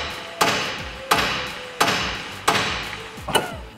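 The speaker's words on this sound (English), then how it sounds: "we're gonna smack the knuckle with a hammer to get it to unseat." Four heavy metallic hammer blows strike a car's steering knuckle to unseat it, at a steady rhythm, each ringing briefly, followed by a fifth lighter double strike; close and loud.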